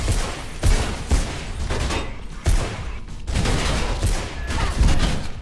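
Rapid bursts of gunfire from the Mirror's Edge video game crack out loudly and close, in uneven volleys across the whole stretch.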